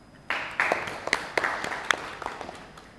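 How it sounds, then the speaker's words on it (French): A small audience at a student entrepreneurship association event breaks into applause: sharp individual claps start abruptly, loud at first, then thin out and fade over a few seconds. "Et je vous demande de les applaudir."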